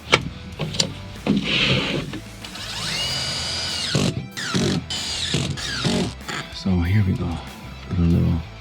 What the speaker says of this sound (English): Now I'm screwing on the return plenum.